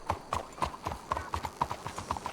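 Criollo horse in a video game trotting with steady, rhythmic clip-clop hoofbeats, fairly faint and even-paced, with no clear neigh.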